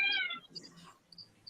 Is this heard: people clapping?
no